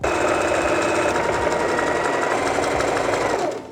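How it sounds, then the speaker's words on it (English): A sewing machine stitches a fold-over seam along a cushion cover for an outdoor patio pillow, running in one loud, steady, close burst that winds down at the end, with no talk. "I'm gonna fold it in half and sew half an inch in on each side."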